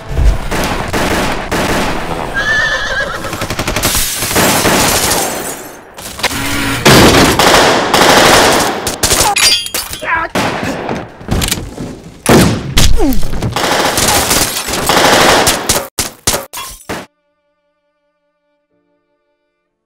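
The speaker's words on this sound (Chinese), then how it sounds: "拿上史村给的枪，杜秋和他上演了一波喋血双雄" Loud gunfire rattles through a violent fight scene in the crime film 《野兽》, with dense bursts of shots, heavy impacts and clashing action that run continuously and then cut off into silence.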